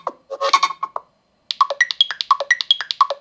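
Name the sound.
Nothing Phone 3 ringtone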